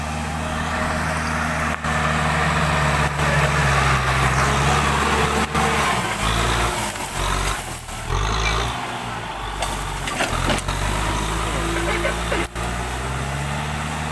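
A farm tractor's engine running steadily in the field, a close, continuous low rumble with a steady drone, the engine note shifting slightly midway while it keeps working.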